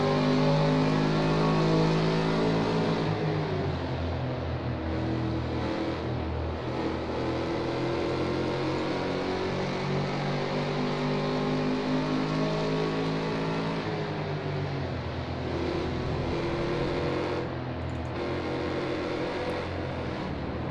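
Race cars in a sim racing game, Mustangs and big-bore cars at a partial rolling start on the Mid-Ohio chicane course, roar together as a dense, steady engine drone with shifting pitch, loud and continuous throughout with no talking.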